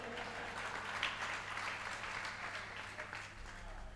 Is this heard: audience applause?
yes